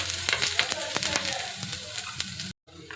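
Steady, close sizzling of grated coconut frying in ghee in a pan, a dense crackle with scattered pops, briefly cutting out near the end before resuming.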